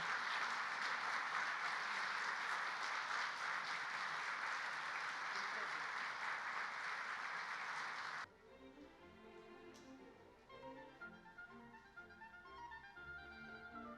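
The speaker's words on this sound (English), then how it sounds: "see off both honorable Prime Ministers with big round of applause" A large audience gives a big round of applause as two Prime Ministers are seen off at an India–Japan event. Dense, loud clapping fills the first eight seconds, then cuts to a quieter scene with talking.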